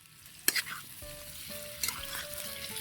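Duck adobo being stirred in a hot pan, with steady frying sizzle and a few sharp scrapes and clinks of the utensil against the pan, close and moderately loud.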